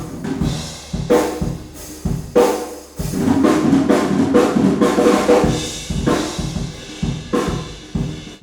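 A drum kit plays a steady groove drenched in a long, washy echo-chamber reverb, hits blurring into a sustained ambient tail.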